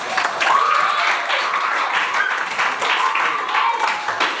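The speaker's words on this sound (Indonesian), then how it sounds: "Boleh tepuk tangan dulu untuk semua" Children in a classroom clap for their classmates, with a steady, dense patter that holds at a close, even level, and a few young voices sound over it throughout.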